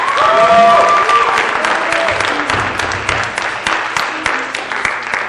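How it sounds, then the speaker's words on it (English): Loud audience applause at a spring instrumental concert, a dense wash of clapping that gradually thins out, with voices mixed in underneath. "Give them a round of applause."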